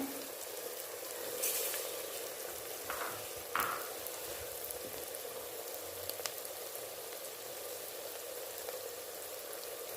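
Onions sizzle steadily in a hot pan, browning for a dal and keema biryani, a soft continuous crackle with a few brief louder spatters, no talking.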